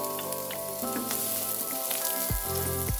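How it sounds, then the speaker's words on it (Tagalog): Onions sizzle in hot coconut oil, a steady close hiss and crackle overlaid by sustained tonal humming and a gliding whine near the end, with no talking. "kapag mainit na yung ating mantika, pwede na natin ilagay yung ating sibuyas"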